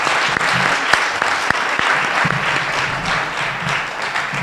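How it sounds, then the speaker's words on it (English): Loud, dense applause from an audience at a school strings concert, honoring a guitar group, with sustained clapping throughout and a few sharper claps standing out. "One more round of applause here for the guitar."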